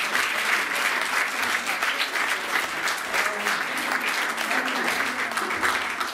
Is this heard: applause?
yes